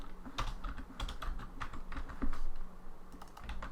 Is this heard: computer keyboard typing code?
yes